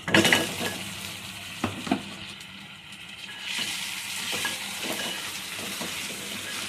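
Crabs dropped into a pan of cooked-down tomato masala, with an initial loud sizzle and hiss, a few scraping stir strokes, then a steadier frying crackle continuing underneath, close and fairly loud with no voices.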